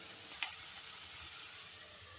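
Onion sautéing in a pan for papaya coconut milk curry gives a steady, soft sizzle and hiss throughout, with one brief faint clink near the start and no voices.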